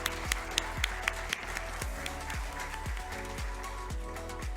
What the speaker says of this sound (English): I think we should give a big round of applause for them